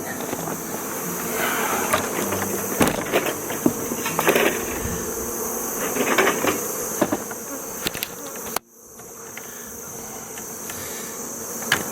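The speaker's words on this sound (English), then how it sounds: "lot of bees." Honey bees swarm around an open beehive in August, a dense continuous buzzing near and loud, with faint knocks and rattles of hive equipment mixed in.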